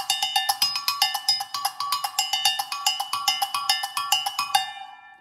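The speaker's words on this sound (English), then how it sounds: "the agogo. And it's a percussion instrument because you hit it." Agogô bells, a two-bell percussion instrument, struck in a quick steady rhythm of bright metallic clanks, close and clear with no talk, the last strike left ringing out.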